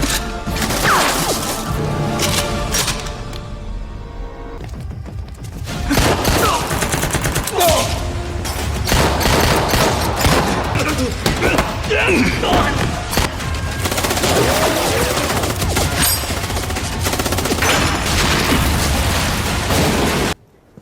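Dense, loud gunfire and booming blasts from an action film shootout between fighters and special forces at a military unit headquarters, nearly continuous with rapid bursts and crashes throughout.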